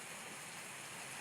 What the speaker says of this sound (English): just the sound of rain.